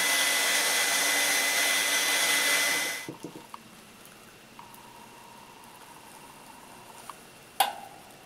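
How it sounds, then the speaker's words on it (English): A hair dryer blows with a loud, steady whooshing roar for about three seconds, then cuts off, leaving quiet room tone and a few small clicks. "I'm gonna use a hair dryer."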